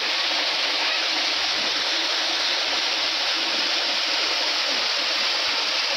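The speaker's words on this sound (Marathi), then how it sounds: "अरे पाणी." Water flows in a steady, loud rush, like a stream or small waterfall at a garden near Lonavala. The broadband roar stays unbroken and no voices are heard.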